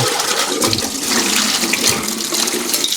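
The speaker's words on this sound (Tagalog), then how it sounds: "Lagay tayo ng main na tubig." Water is poured and splashes loudly close by, a steady gushing rush with no talk.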